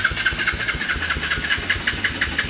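A Tao Tao kids' Chinese ATV quad fitted with a Banshee engine runs right after starting, a loud, close, rapid rough putter that pulses steadily and has a raspy edge from a dirty carburetor.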